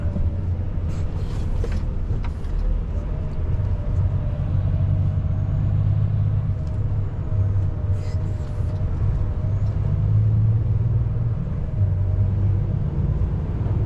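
Road traffic on city streets in Valenciennes: a steady, continuous rumble of passing cars and heavier vehicles, moderately loud throughout with no pauses and no talking.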